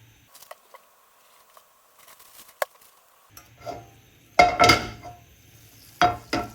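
A pan clanks onto a stove in a clatter of metallic knocks, followed by a second lighter clunk, close and fairly loud after quiet ticks.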